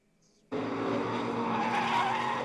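A NASCAR race car at Road America skids off track into the grass, a sudden loud onset of tire scrub and engine roar that holds steady and close for two seconds with no talk.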